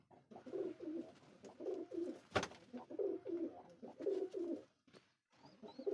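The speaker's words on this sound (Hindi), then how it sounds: "कबूतर मस्ती दिखाते हुए आप लोगों को मस्ती दिखा रहा है।" Pigeons cooing in rhythmic, repeated bursts nearby at a home coop that also houses rabbits, with a brief sharp knock partway through and short pauses between phrases.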